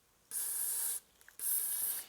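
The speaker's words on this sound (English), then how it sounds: "Like a quick spritz just onto the threads for this." Disc brake cleaner is sprayed onto the threads of a vintage Honda part in two short hissing bursts, each under a second long, close and clear with a brief pause between them.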